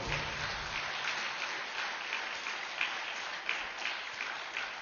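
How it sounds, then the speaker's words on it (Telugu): Steady applause from an audience at a speech, even and continuous, heard at a moderate distance with no voices over it. "వాళ్ళందరికీ ఒకసారి గట్టిగా చప్పట్లు కొడదాం."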